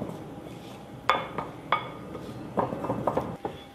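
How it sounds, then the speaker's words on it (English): A wooden spoon beats runny batter in a bowl, giving a quiet background swish broken by a series of sharp clinks and knocks against the bowl's rim, several spaced apart and then clustered near the end. "Give this a very good mix, because it's got to end up like a runny batter without any lumps."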